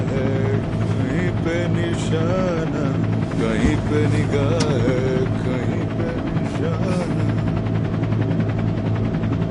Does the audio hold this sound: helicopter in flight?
yes